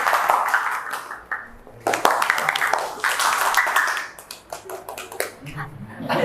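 A classroom of students claps in rhythm, making dense, sharp hand claps in repeated bursts with a shifting, pitched quality. Brief pauses separate the bursts, and voices can be heard faintly among them.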